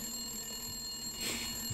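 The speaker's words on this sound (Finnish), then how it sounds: "Eiköhän se tässä illan päälle vielä soi tämäkin puhelin." A telephone rings in the video game Resident Evil Village, a steady electronic bell tone with a brighter burst partway through, heard alone with no talking.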